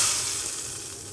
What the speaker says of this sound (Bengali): তো এই চিলি সহ অয়েলটাকে আমি ডালের উপরে